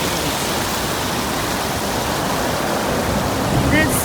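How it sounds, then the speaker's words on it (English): Steady rushing and splashing water from a walk-through water feature fountain on the High Line in New York City, a continuous hiss that stays even throughout. "This is like the water feature that you can walk through and cool off."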